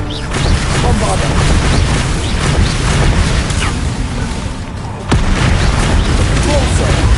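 A Bombarda explosion spell cast in the Hogwarts video game produces heavy, rumbling booms that come in quick succession, loud and dense with bursting crackle, with a short lull before another blast.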